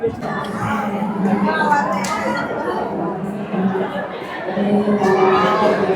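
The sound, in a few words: crowd at ISKCON temple Kharghar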